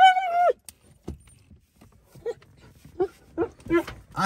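A dog in a parked Nissan makes a drawn-out whine at the start, then brief yelps and snuffles follow in a close, quiet space with soft clicks between.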